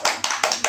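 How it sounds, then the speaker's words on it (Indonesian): Students in a classroom clap for a classmate, a few loud, distinct close-up hand claps in a quick uneven rhythm. "Kita kasih applause dulu ya,"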